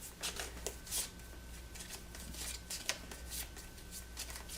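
Cards being shuffled for the Lost Ruins of Arnak board game, a close, continuous riffling and sliding with soft repeated bursts across the whole stretch, no voices.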